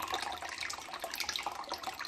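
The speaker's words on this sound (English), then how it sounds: "we're now siphoning the water from here into this one, and it will just do the job itself" Water siphons through a tube from one container into another at a garden allotment, a continuous light trickling and splashing stream heard close and alone.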